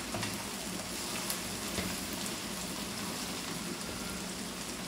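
Whole green chilies frying with okra in a pan give a steady, close hiss and sizzle that holds at an even level throughout, with no voices.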